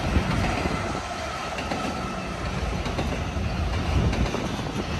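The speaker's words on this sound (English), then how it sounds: "10 engines pulling 5 cars." A BNSF freight train running ten locomotives ahead of just five cars rolls steadily past, a broad continuous rumble and rattle of wheels on rail with no voices over it.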